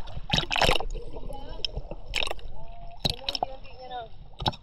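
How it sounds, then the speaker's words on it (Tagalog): Strong waves splash and slosh around a small boat in short, irregular bursts, close and loud, while people talk between the splashes. "Malakas alon."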